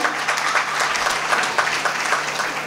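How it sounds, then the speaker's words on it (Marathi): A crowd at a drama competition prize ceremony bursts into enthusiastic applause, a dense, steady clatter of many hands clapping, with no voices over it. "त्यासाठी एकदा जोरदार टाळ्या"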